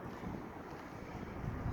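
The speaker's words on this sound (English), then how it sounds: "Been windy here for over a week now" Rough, blustery wind buffets the microphone in a cemetery, a low rumbling roar that stays loud and constant.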